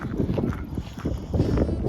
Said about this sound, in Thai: ลมเย็นจอยจอยพี่น้องเอ้ย